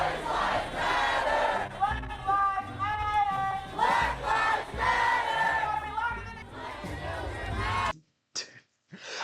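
Large crowd of street protesters shouting and chanting together in loud, surging waves of voices, broken by pauses, then cut off abruptly near the end.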